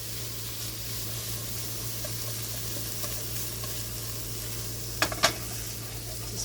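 Onions sauté and caramelize in a pan for stuffed acorn squash, giving a soft, even sizzle throughout. Near the end come two quick utensil clinks.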